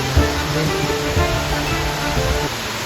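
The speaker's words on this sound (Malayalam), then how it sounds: "ഇതാണ് രാജ്മോളെ പാലൂർക്കോട്ട വെള്ളച്ചാട്ടം" Palurkotta waterfall pours in a constant, loud, dense rush of falling water close by, with no break across the moment.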